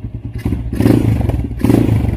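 A supermoto motorcycle engine runs loud and close with a rough, pulsing low thump and clattery mechanical texture. The throttle surges in two bursts.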